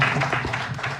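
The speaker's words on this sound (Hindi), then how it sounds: "जोरदार तालियां।" Audience applause at an inter-school storytelling competition, a short, even burst of many people clapping together at moderate loudness.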